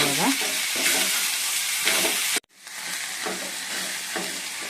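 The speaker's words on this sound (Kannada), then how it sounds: "ನೀಟಾಗಿ ಚೆನ್ನಾಗಿ ಮಿಕ್ಸ್ ಮಾಡ್ಕೊಳ್ಳೋಣ." A spoon stirs avarekalu soppu saaru in a pan, scraping and sizzling steadily up close, then a brief silent pause before the stirring resumes.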